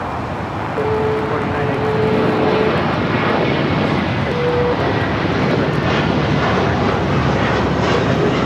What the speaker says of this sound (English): This is American Airlines 2110 taking off to Boston on the A321.